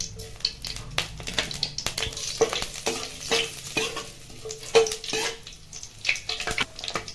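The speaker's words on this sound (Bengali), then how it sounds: "প্রথমে দিয়ে দিতে হবে সরিষার তেল, ফোড়নে দিতে হবে গোটা জিরে" Whole cumin seeds crackling as they temper in hot mustard oil, with scattered pops and clicks over a steady sizzle and occasional stirring scrapes, close and fairly loud with no talking.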